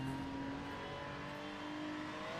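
Race car engine in a racing video game at the Nurburgring, running steady and loud with a strained, buzzing drone held at high revs throughout, no talk over it.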